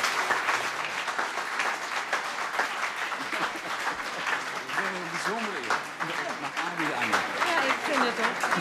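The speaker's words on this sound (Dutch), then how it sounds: "Corrie van Gorp, graag uw hartelijk applaus" Audience applause at a Dutch book presentation honouring entertainer Wim Sonneveld, a steady wash of clapping from a full room that holds throughout, with a voice speaking over it partway through.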